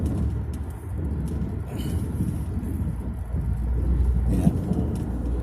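A six-wheeled truck rumbles under a highway bridge on the Route 418 bypass near Don Yang junction in Pattani, a steady low roar of road traffic that swells gently toward the end, with faint bird coos above.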